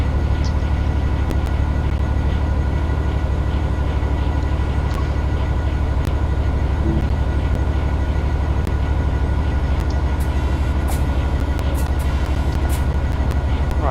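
A rail head treatment train in a video game rolls along the track with a steady, continuous rumble, constant and fairly loud throughout with no voices, coming out of a tunnel near Gillingham.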